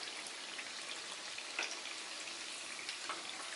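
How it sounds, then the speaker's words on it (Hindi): Sabudana vada patties frying in hot oil, a steady soft hiss with fine crackle and a few slightly sharper pops, heard at a modest level with no voices over it. "इस तरह से उलट पलट के गोल्डन ब्राउन और क्रिस्पी हो जाए तब तक हम इसे फ्राई कर लेते हैं।"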